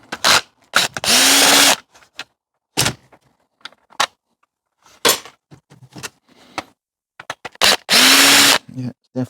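A power drill backs screws out of an old school bandit fruit machine during scrapping, running in short close whirring bursts between clicks and clunks, with people talking intermittently.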